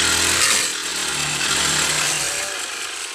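A motorized grass cutter cutting grass produces a loud, close, continuous engine whine that stays steady and then eases slightly toward the end, with no speech.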